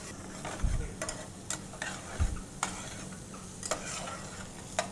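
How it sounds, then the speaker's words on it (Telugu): Finely chopped onions fry lightly in a pan for foxtail millet upma, a soft steady sizzle with repeated spoon scrapes and a couple of low thumps, fairly quiet and close, no speech. "కొద్దిగా దోరగా వేయించిన ఉల్లిపాయలు"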